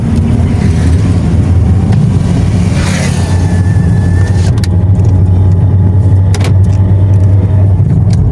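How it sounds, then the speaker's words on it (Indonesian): Trucks speed along a highway at night between Lampung and Palembang, heard from inside a vehicle as a loud, continuous engine and road roar with a passing rush partway through. "semakin malam semakin kencang-kencang ini truk-truknya."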